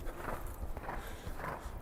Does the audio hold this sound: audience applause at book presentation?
no